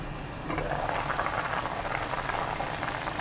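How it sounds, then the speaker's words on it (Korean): A pot of soup with anchovy fish sauce, minced garlic and chili pepper boils under a closed lid, giving a steady, soft bubbling and rattling simmer with no talk. "멸치액젓 2큰술, 다진 마늘 1큰술, 고추 넣고 뚜껑 닫아 끓여주세요"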